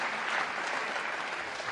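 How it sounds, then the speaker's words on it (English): A crowd at Trump's CPAC speech breaks into loud, steady applause, a dense unbroken wash of clapping that fills the whole short stretch. "He's getting a much larger applause for this than anything else"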